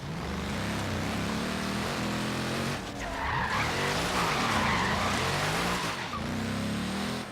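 A roaring car engine in the Forza Horizon 3 racing game, loud and aggressive with tire squeal and skidding, revs rising and falling through gear changes, continuous throughout.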